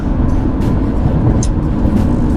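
A Toyota Revo 2.4 pickup engine hums steadily under acceleration, a low, even rumble with road noise close by.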